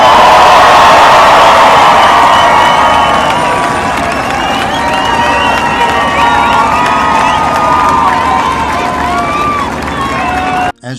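A large crowd of five to seven thousand spectators at a monument unveiling cheers and shouts steadily, with scattered whoops and voices. The roar is loud and continuous, then cuts off abruptly at the end.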